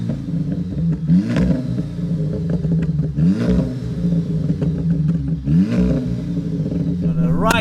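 A VW Golf R Stage 2 with a DSG gearbox revs hard three times in succession, each rising engine swell close and loud over a rumbling idle.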